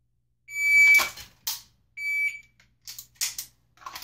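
An electronic shot timer set to a random delay and a 1.5-second par time gives two sharp, steady beeps, each followed by quick clicks and clacks of dry-fire drawing practice.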